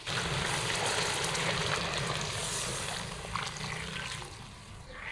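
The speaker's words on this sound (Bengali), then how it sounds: "আজকে ঝোলের জন্য গরম জল দিব।" Hot water pours into a pan of country chicken and potato curry, a steady gushing rush close by that eases slightly toward the end, with no talking.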